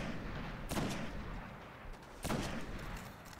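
Gunfire from the PS4 video game Destiny during a strike: two heavy, booming shots about one and a half seconds apart over a dense, rumbling battle din, fairly faint overall with no talk.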